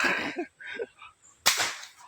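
Firecrackers going off at a spot in Naic, heard as a series of sharp cracking bursts, with one loud close blast near the end followed by a crackling tail.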